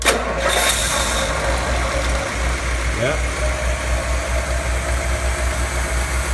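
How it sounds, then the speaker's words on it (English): A Ford Thunderbird engine cranks briefly, catches and settles into a steady, close, loud idle in a restoration garage; a single short spoken word is heard over the running engine. "with this button I will crank the engine and let's take a listen"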